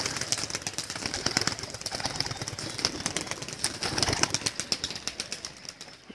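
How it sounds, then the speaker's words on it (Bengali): Pigeons released at the start of a pigeon-flying club tournament match, a busy flurry of wing flaps and fluttering close by, with a steady outdoor background hum. "পায়রা ছেড়ে দেওয়া হচ্ছে।"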